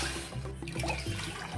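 About two bowls of water poured into a pot on a home stove for making chakli dough, a steady close splashing and trickling stream lasting under two seconds, with no talk.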